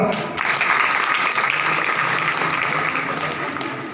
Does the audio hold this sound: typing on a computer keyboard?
no